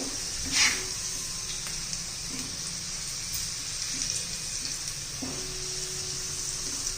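Spiced okra fries in a pan over a medium gas flame with a soft, even sizzle and a few faint clinks, low in level and without any talking.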